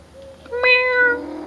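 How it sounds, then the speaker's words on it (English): A cat gives one drawn-out, high-pitched meow with a rising then falling tone, close and fairly loud against a quiet background. "imagine this thing meowing very high-pitchedly while you're sleeping."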